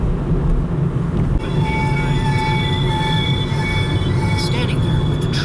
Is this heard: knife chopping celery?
no